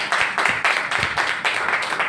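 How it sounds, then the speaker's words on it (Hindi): A church congregation claps loudly in a steady rhythmic beat, roughly two to three strokes per second, sustained throughout. "जोरदार तालियां कलीसिया।"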